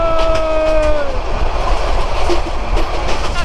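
Burimari Express train passing a local train at Tejgaon railway station, heard from on board as a continuous rolling rumble with clickety-clack of wheels and a brief high squeal near the start, with faint voices.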